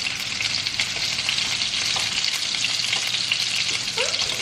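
Meatballs and onions fry in hot oil in a pan, giving a steady, loud, close sizzle that runs without a break, with a few faint pops and scrapes near the end.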